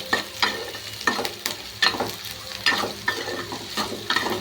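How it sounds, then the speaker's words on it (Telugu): Ridge gourd deep-frying in oil for chutney, a steady crackling sizzle with repeated scraping stirs of a spoon against the pan roughly every half second, close and fairly loud, no voices. "ఇలా బీరకాయ పచ్చడి చేయడానికి వేపాలి."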